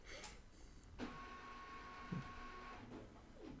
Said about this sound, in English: The printer's doing things.